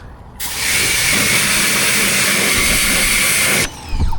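A Ryobi auto pressure washer blasts mud off a truck with a loud, steady hissing roar that starts abruptly, holds for about three seconds, then cuts off.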